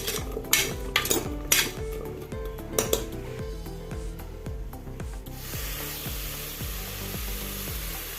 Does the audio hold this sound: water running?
no